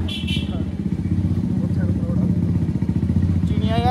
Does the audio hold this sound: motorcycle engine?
yes